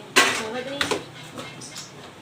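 Kitchen utensils such as a peeler and knife being gathered and set down, a few sharp metallic clatters and clinks close by, with a brief voice in the background.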